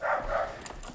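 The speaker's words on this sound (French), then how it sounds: "Le chien est là." A puppy in a courtyard in Taigu, Shanxi, gives a couple of short, faint yips and whimpers close by, followed by low ambient noise.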